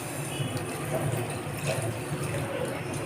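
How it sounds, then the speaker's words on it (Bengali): Water is added to a pan of simmering parse fish curry, giving a steady, close, moderately loud watery wash that runs continuously through the short moment with no voices. "আরো একটু সামান্য পরিমাণ জল অ্যাড করব।"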